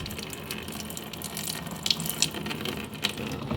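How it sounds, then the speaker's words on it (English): Coolant draining from the radiator of a Honda CRX, a steady splashing, gushing stream of liquid pouring into a container, continuous and close with occasional sharper splashes. "So now we'll go ahead and let this drain."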